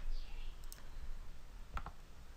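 A computer mouse clicks a few times while working in Photoshop, giving sharp, quiet clicks, with two close together near the end over faint background hiss.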